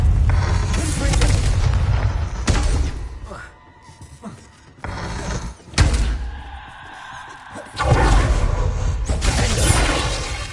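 Fire spell blasts from the Confringo spell in the Hogwarts Legacy game land as a run of heavy, loud booms and thuds close by, several bursts separated by brief lulls, with a voice calling out among them.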